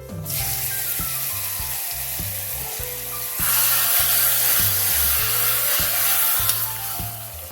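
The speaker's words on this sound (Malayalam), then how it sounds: "ഞാൻ ഒന്ന് കടുക് കുറച്ചിടുകയാണ് കടുക് കൊട്ടുന്നുണ്ട്" Mustard seeds spluttering in hot oil for a lemon curry tempering at an Onam feast in London: a loud, steady, close sizzle peppered with crackling pops, with no voices.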